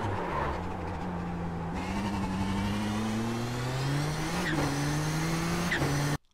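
An iRacing race car at Snetterton's Palmer corner, its engine droning steadily and rising in pitch under throttle, with a quick upshift blip near the end, loud and close.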